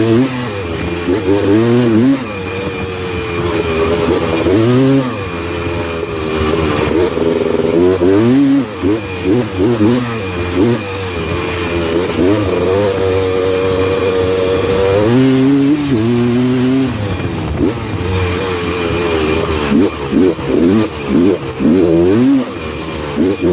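A Honda TRX330R ATV engine runs after a full build, idling and repeatedly revving up and down in loud, close bursts over about twenty seconds, with rising and falling pitch.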